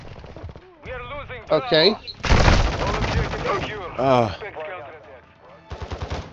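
Rapid bursts of MP5 submachine gun fire in Modern Warfare 2 crackle through a Domination match on the Farm map, loud automatic volleys punctuated by excited talking and exclamations.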